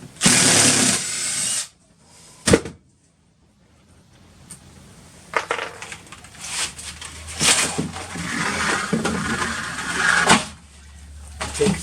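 Power drill backing screws out of a bending brake, several short whirring bursts separated by pauses, with some clatter and handling noise close by.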